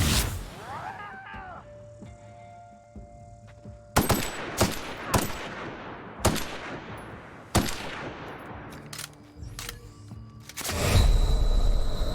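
Gunfire from a weapon in the video game The Outer Worlds: several sharp, loud shots at irregular intervals, separated by quieter decaying tails, ending in a sustained louder burst.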